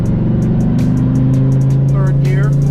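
A Dodge Viper ACR running without nitrous drones with a steady loud engine note from inside the car at about 75 mph, and a voice talks over it.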